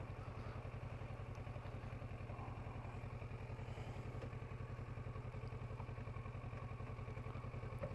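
A 2016 Kawasaki Versys 650 idles at the roadside after pulling over by a field entrance, a steady low rhythmic engine thrum heard close and alone.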